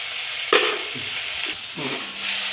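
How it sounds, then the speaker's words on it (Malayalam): A spoon scrapes and stirs turmeric and coriander powder into an anchovy and tomato masala in a pan, with a sharp first scrape, a few softer strokes and a gentle sizzle underneath. "എല്ലാം കൂടി മിക്സ് ചെയ്ത് കൊടുക്കുക"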